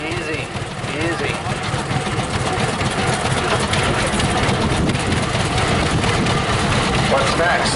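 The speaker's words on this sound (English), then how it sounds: "Rear mounted engine used for plowing. Red River Special." A Red River Special plowing tractor with a rear-mounted engine runs at an outdoor show, a steady, loud low rumble with rough vibration, while people talk nearby over it.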